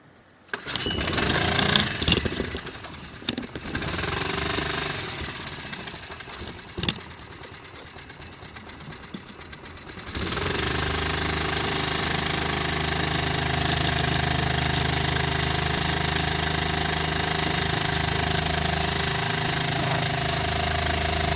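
A Honda 2.3 gas outboard motor on a small boat sputters and revs roughly as it starts, then settles into a steady, loud, continuous running drone at low throttle.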